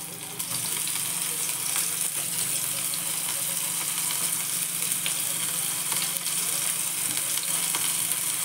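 Paneer cubes sizzle steadily in a hot pan with oil, a continuous bright frying hiss that stays even and close throughout, with no voices.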